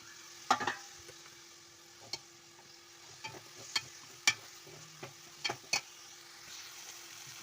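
Onion, tomato and green chilli fry in hot oil for Andhra-style prawn gongura, a quiet sizzle beneath scattered sharp spatula taps and scrapes against the pan.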